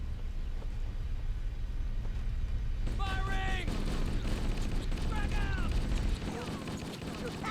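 Gunfire and a frag grenade explosion in the Halo: Combat Evolved VR campaign, a dense run of rapid shots and blasts heard over a noisy battle with chirping alien sounds and a voice speaking over them.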